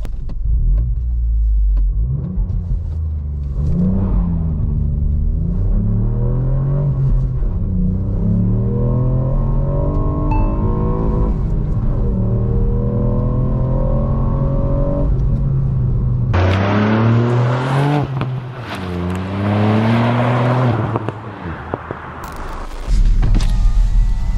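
A Ford Puma ST in sport mode, valved exhaust open, accelerates hard with a loud, rising engine note through several gear changes, a brief drop at each shift, then climbs again to a raspier, higher pitch near the end.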